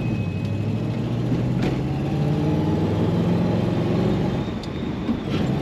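A 1965 Dodge Dart convertible with a stick shift cruises on the highway, its engine and road noise making a steady, loud, continuous drone with wind rush and no talking.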